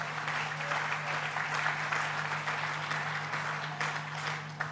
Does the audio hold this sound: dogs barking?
no